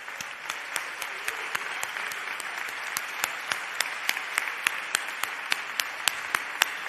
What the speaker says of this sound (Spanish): quiero, por favor, pediros un último aplauso para todos.